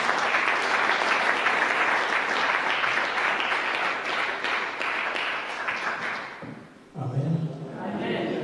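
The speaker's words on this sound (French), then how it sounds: "Est-ce qu'on va acclamer pour ces personnes?" A church congregation applauds and cheers in a long, dense, loud wave of clapping that swells and then fades out, followed by a few thumps and a voice.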